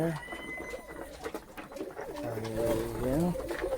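Pigeons in a loft coo repeatedly while being fed, their low rolling calls overlapping close by amid rustling and a faint voice in the background.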